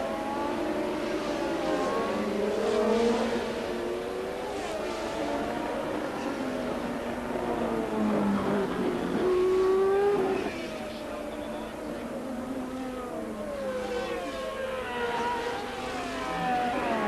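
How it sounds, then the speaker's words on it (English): 1981 Formula 1 race cars, a Ferrari among them, roar past in a steady, loud engine drone with rising and falling pitch as they race. "With Lafitte still leading, Villeneuve now appears with his wing at a wild angle."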